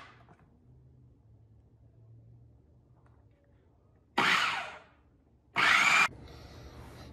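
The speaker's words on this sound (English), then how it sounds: "Now we're going to click the food processor and then mix it up." A food processor runs in two loud bursts of a few seconds each, with quiet kitchen sounds before and between them, while pasta dough is being mixed.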